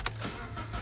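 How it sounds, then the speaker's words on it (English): Manual-transmission car engine cranking and catching, a faint burst of starter noise followed by a low running rumble, with a brief jingle like keys near the start. "car starts right up"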